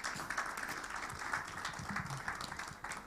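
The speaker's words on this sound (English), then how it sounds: "can we give him a round of applause, please?" An audience at a postgraduate award ceremony claps for an official, a fairly faint, even patter of many hands in a hall, continuing steadily throughout.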